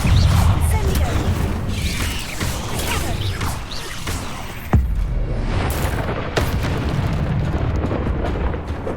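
An Incendio fire spell is cast in Hogwarts Legacy, bursting in a loud whooshing roar of flame with crackling, booming combat effects and a sharp impact midway through dense gameplay sound.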